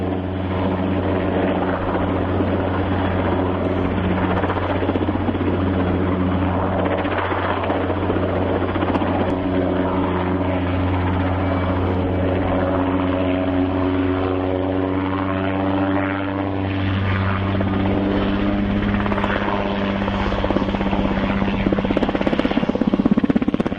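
A helicopter hovers beside a tower under construction, its rotor and engine producing a continuous loud, even thrumming drone with a steady blade beat that swells slightly near the end, without speech.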